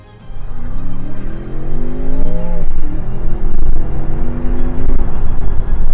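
A Range Rover Sport SV with a 627-horsepower V8 accelerates hard, its engine note climbing steeply, dipping briefly at a shift, then pulling up again, loud and close with no talking.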